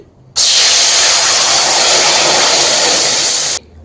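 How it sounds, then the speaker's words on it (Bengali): Water is poured into a hot kadai (wok) and bursts into a loud, continuous hiss of steam lasting about three seconds, close and dominant, then cuts off abruptly. "এই কড়াইয়ের মধ্যে কিছুটা জল দিয়ে দিচ্ছি।"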